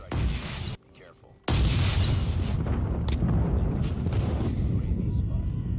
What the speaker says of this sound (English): Enemy airstrike.